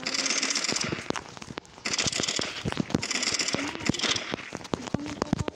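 Rapid bursts of gunfire from the Roblox shooter Bad Business, with sharp cracks and short automatic volleys repeating steadily at close range, fairly loud throughout with no talk.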